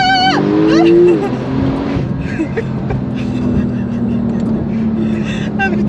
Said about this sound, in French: Ça s'appelle un launch control.